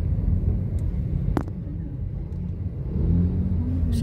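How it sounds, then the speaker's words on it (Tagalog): Dense road traffic on a narrow street outside an elementary school, a steady low rumble of car engines with a few sharper transient noises passing through. "Sobrang traffic rito."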